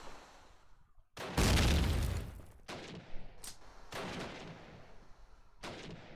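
PPSh submachine gun bursts in a video game match, loud rapid fire followed by several shorter sharp bursts with quiet gaps between, no voices over them.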